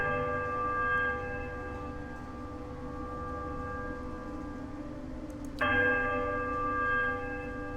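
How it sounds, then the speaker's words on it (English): Large bells ring in the fantasy role-playing game Pillars of Eternity, one long sustained metallic tone hanging in the air before a second bell strikes sharply partway through and rings on, full and resonant. "We're going to ring the left bell first. And then we're going to ring the large bell."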